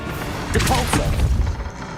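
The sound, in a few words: Depulso spell cast in Hogwarts Legacy video game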